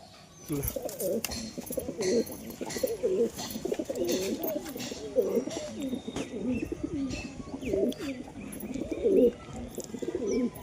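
Pigeons coo in soft, repeated low throbbing calls close by, layered and continuous across the stretch, with faint background rustle.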